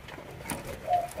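A single caged bird, a dove-like call, gives a short soft coo near the end, faint against quiet background noise.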